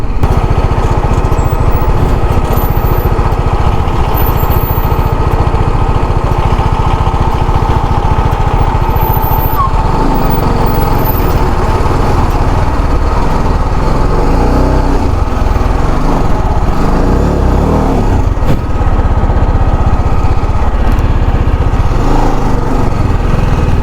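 A motorbike engine drones steadily and close on a muddy mountain road in Sikkim, with a continuous buzzing hum and slight changes in load, and no talking over it.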